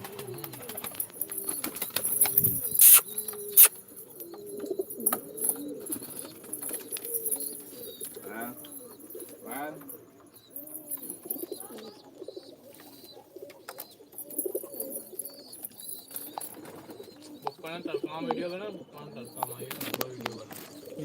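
Pigeons coo repeatedly in soft, throaty bursts, with occasional wing flaps and people talking nearby throughout.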